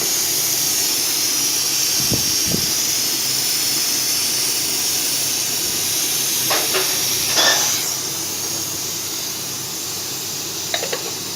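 Onions frying in oil make a loud, continuous hiss that fills the whole stretch, broken by a few brief utensil clinks and scrapes along the way.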